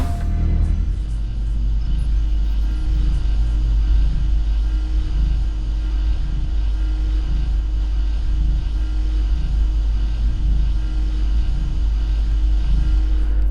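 An elevator in Halo descends with a steady deep mechanical rumble and a faint regular pulsing clunk, continuous and close throughout.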